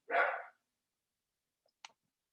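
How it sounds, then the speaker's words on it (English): A single loud bark from a pet dog indoors, followed a moment later by a faint short click. "Apologize for my dog, everybody."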